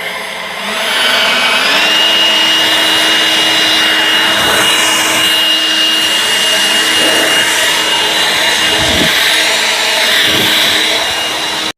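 An EGO Power+ LB7650 cordless leaf blower runs on its low setting, giving a loud, steady whooshing whine that holds for the whole stretch with only slight wavering.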